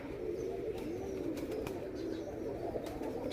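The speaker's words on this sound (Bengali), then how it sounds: "এগুলা অন্য একটা অন্য জাতের কবুতর" Pigeons of an unusual breed cooing close by in a village home, a low soft continuous burble with a few faint chirps and clicks around it.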